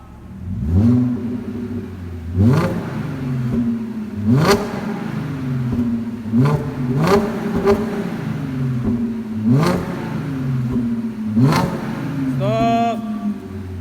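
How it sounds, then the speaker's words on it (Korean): An Audi A7 with a custom dual exhaust revs repeatedly in sharp bursts, about eight throttle blips rising and falling, loud and close, with a deep exhaust rumble between them. "배기 소리 한번 들어볼게요."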